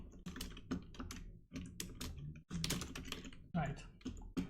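Rapid bursts of typing on a computer keyboard, close and crisp, coming in uneven clusters with short pauses while a person talks over it.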